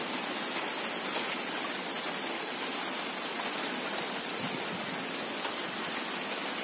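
Torrential rain lashes down in gusty wind, a constant, loud, even roar of falling water near at hand, with no one speaking.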